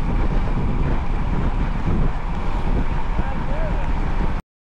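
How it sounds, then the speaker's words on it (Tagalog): Steady, loud headwind rushing and buffeting across a microphone during a bike ride, a continuous broadband roar with no breaks until it cuts off abruptly near the end. "Biglang nag-headwind dito."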